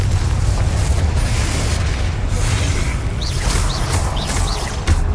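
Confringo explosive spell blast in the video game Hogwarts Legacy, heard as a continuous loud booming rumble with repeated bursts and crackles layered over it, close and sustained throughout.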